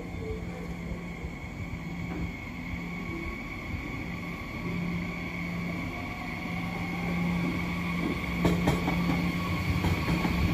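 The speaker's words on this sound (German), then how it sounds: "der ICE2 wird ins ICE-Werk Richtung Nürnberg rangiert" An ICE2 high-speed train being shunted at a station, a continuous low rumble with steady tonal hum and faint rail squeal, growing slightly louder with a few clicks near the end.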